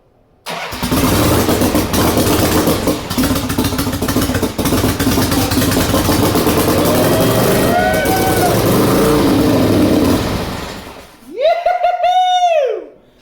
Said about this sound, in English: So the bike started.